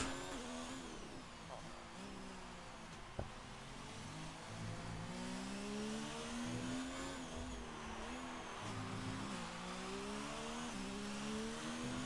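A race car engine roars steadily in a racing video game during a Mexican Grand Prix lap, its pitch sweeping up and down through gear shifts, with one brief sharp click partway through.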